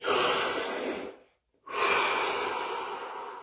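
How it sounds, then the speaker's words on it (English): A single deep breath drawn in and let out during a guided stillness session, close and loud, a long breathy rush that stops for a brief silent pause and then resumes as a steady exhale. "Last breath, deepest of all."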